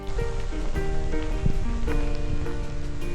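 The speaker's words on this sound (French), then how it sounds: "la pluie, c'est un crescendo assez intense" Heavy rain pours steadily and loudly outdoors on a remote Newfoundland rail trail during a bike trip, a dense, continuous hiss with scattered drops and spatters throughout.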